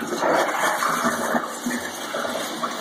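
A toilet-style flush in an airport pet relief area with artificial grass, a fire hydrant and a sink gives a steady rushing, gurgling wash of water for a few seconds, close and fairly loud, with no voices.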